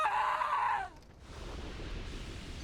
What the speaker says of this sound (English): they scream so loud when you die